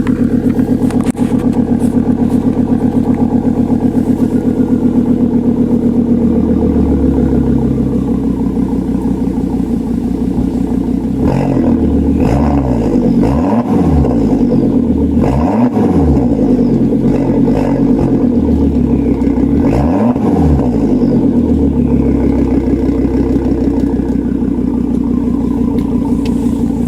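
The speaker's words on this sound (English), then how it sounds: "Here, I'll rev it up for you guys a little" A 2006 Volvo S80 with a 2.5-litre five-cylinder turbo and its muffler deleted idles loud and close, then is revved in several sharp bursts that climb and fall back, with a raw, unmuffled exhaust note throughout.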